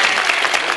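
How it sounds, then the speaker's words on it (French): A brief burst of applause from an audience at a comedy show, dense and even clapping that fills the whole short moment without any voices. "petite salve d'applaudissements."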